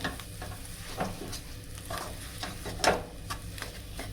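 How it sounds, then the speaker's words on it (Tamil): Potato and onion masala stuffing for Punjabi samosa being stirred in a pan, with soft scraping strokes and a few sharper spoon knocks over a faint, steady sizzle. "ஸோ இப்போ இந்த மசாலா கூட நல்லா பிளெண்ட் ஆகிற மாதிரி பொட்டேட்டோ வந்துட்டு நல்லா மிக்ஸ் பண்ணி விடுவோம்."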